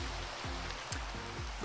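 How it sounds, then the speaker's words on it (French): Rain falls in Minecraft as a steady, soft hiss of rain on surfaces with no speech, while a few low, pulsing tones sound underneath. "donc là il se met à pleuvoir"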